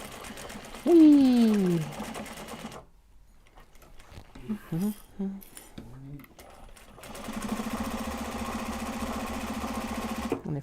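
Sewing machine stitching a Japanese fabric bag with denim, a steady close mechanical whir that starts after a short spoken exclamation and gaps, then runs continuously to the end.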